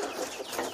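Brief clucking of hens in a two-tier cage inside a chicken coop, close by and moderately loud.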